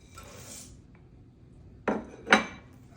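A knife strikes a board while finely chopping pecans, two sharp distinct knocks near the end after a quiet, faint rustle, close and crisp.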